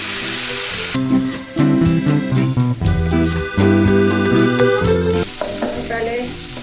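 Masala spiced with salt and tamarind fries in a hot pan for a prawn masala fry, a steady crackling sizzle that is partly covered by loud background music through the middle.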